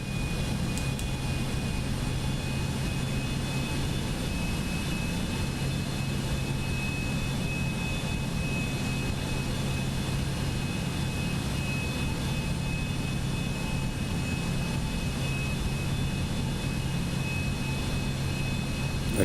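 Steady, unbroken whine and roar of a Cessna C750 private jet's engines in Microsoft Flight Simulator 2024, a constant mid-level drone with a faint high tone, heard alone without talk.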